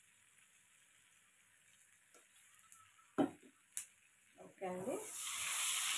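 Fenugreek powder, asafoetida and other spices hitting hot oil for a light fry, a soft tick of utensils giving way to a swelling sizzle that grows louder toward the end, with a brief spoken remark.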